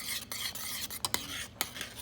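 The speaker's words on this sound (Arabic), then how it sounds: "باش نزيد فيه الجيلاتين وباش نحرك فيسا فيسا" A spoon stirs strawberries cooked down with sugar and gelatin in a pot. Soft scraping strokes and a few clinks against the pan sound up close and quiet over a faint bubbling, with no voices.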